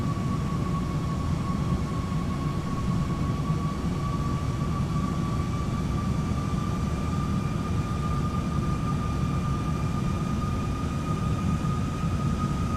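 An Airbus A319 takes off through turbulence in Microsoft Flight Simulator 2020, a steady, heavy jet engine roar with a constant whine on top, alone for about thirteen seconds.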